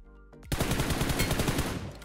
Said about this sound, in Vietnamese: Có rất nhiều tiếng súng ở nhiều hướng anh em ạ